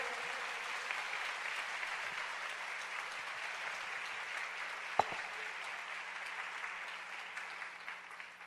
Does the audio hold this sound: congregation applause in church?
yes